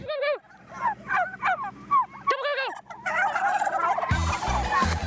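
Group of farm turkeys gobbling together in repeated bursts, close and loud, with a dog's barks mixed in and a louder jumble of calls toward the end.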